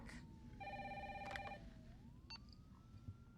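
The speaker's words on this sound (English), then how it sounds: "Let's answer the phone." A telephone rings in the Resident Evil 3 Remake video game, a quiet electronic ring burst standing over low rumbling ambient game noise, with a brief second tone later and no speech.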